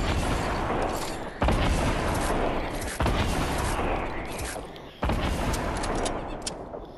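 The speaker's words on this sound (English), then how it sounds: "Today I'm going to be showing you guys some gameplay on the dual pistols" Dual pistols firing in Fortnite gameplay, dense rapid bursts of sharp game gunshots in quick succession, with three abrupt louder shots cutting through a continuous barrage.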